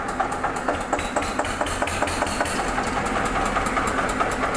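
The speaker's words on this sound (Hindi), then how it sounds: "ये देख सकते हैं आप, एक सिलेंडर पे है ये आयसर 242 एस ट्रैक 2013 मॉडल है जी लास्ट का।" A 2013 Eicher 242 tractor with a single-cylinder engine idles close by, giving a steady, continuous chugging with an even knocking pulse and no talk.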